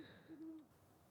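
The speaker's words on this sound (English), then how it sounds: "Come on, tell me you guys hear that owl." A single owl hoots at night at a campsite, one soft, low hoot from a distance over quiet background hiss.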